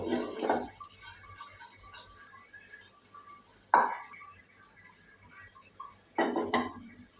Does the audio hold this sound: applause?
no